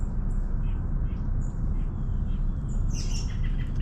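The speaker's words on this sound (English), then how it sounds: "birds chirping all around me" Birds chirp in the woods along a trail, with scattered short tweets and calls that cluster near the end over a steady outdoor background hiss.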